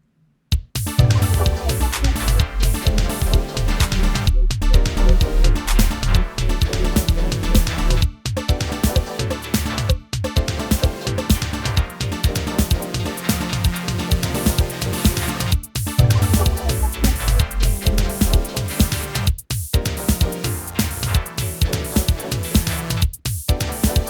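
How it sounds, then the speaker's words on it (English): A steady electronic groove with a sustained synth pad, a rolling bass line and a punchy repeating drum beat, briefly dropping out at section breaks. "my B section, my alternate section, is going to be based around the pad sound, this longer bass pattern"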